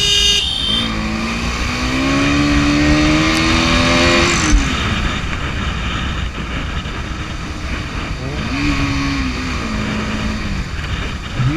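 An NS 200 BS6 ABS motorcycle rides on a road, its engine loud and close with rising and falling revs as it accelerates and shifts, over steady wind and road rumble.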